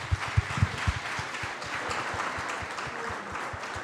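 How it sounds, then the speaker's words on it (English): An audience applauds a retiring swim coach, with a few distinct, separate claps at first that blend into a moderate wash of clapping. "So let's have a big round of applause"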